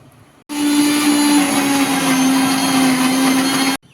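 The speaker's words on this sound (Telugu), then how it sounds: "ఇంట్లో ఒక 2 రెమ్మలు కరివేపాకు వేసేసి మిక్సీ వేసేసుకుందామండి" A kitchen mixer grinder runs in one steady, loud whirring burst, grinding green masala paste with curry leaves, coriander powder, lemon and oil, starting abruptly and cutting off after a few seconds.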